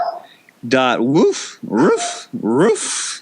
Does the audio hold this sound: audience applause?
no